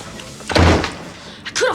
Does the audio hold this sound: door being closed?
yes